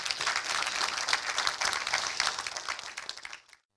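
Audience applause for panel guests at a Kenyan business talk event, a burst of dense clapping close by that continues for a few seconds before cutting off abruptly.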